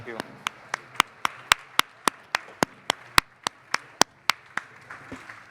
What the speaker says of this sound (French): nous pouvons en tout cas vous applaudir avec